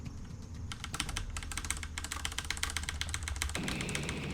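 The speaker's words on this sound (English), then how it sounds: "I knew getting this new super loud mechanical keyboard would be great for these scenes." Loud, rapid mashing on a super loud mechanical keyboard during a video game quick-time event in Midnight Train, a dense continuous clatter of clicking keys over a low steady background hum, with no talking.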